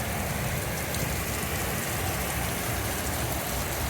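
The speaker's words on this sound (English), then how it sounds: "Saturday morning, and I would say" Rain falls steadily on a Saturday morning as a dense, even wash of hiss with no pauses or voices.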